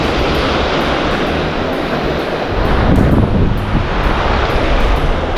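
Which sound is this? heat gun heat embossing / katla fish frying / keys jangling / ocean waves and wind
ocean waves and wind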